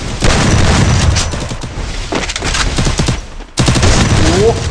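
Rapid bursts of automatic gunfire and booming shots come from an online shooter game match, loud and close, with a brief gap before the firing resumes.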